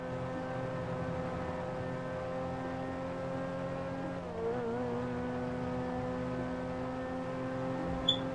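An old car in a heist prison-break video game drives along with a steady, sustained engine drone whose pitch holds mostly level, with a brief wobble midway and a short sharp blip near the end, and no voices over it.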